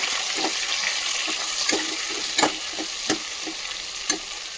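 Eggplants for a stuffed masala eggplant curry fry in oil with green chilies and curry leaves. A gentle, steady sizzle runs underneath while a spoon stirs and scrapes the pan, making a few sharp clinks.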